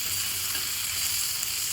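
Pointed gourd (potol) sizzles as it fries in a pan, with a steady, even crackle held close and at moderate level throughout and no talk.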